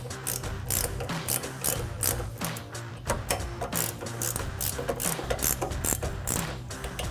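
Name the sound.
19mm ratcheting wrench tightening castle nut on Jeep steering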